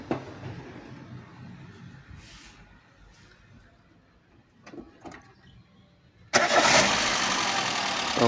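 A Peugeot 206 car with a newly installed engine cranks over with faint clicks and turning, then catches and fires up loudly, settling into a steady, close idle.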